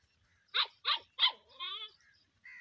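A small dog barks three times in quick succession close by, followed by a drawn-out whiny yelp and a brief final whine, in a quiet village setting.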